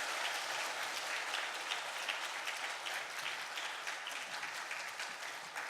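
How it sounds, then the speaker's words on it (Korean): Church congregation gives a warm round of applause as a guest pastor is welcomed to preach, a dense, even wash of many hands clapping steadily throughout with no talk on top. "한번 감사의 박수를 올려드리면서"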